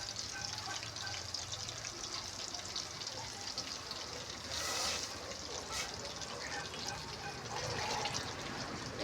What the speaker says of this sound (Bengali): ধোয়া হাঁড়ি তবু এবার গরম পানি দিয়ে ধুয়ে নিচ্ছে